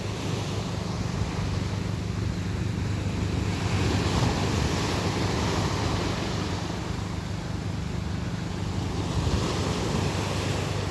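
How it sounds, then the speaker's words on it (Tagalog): Ocean waves roll onto a beach in Barangay Tampael, Tigbauan, Iloilo, in a continuous rushing wash, with steady low rumble and wind buffeting the microphone throughout. "Sarap ng alon"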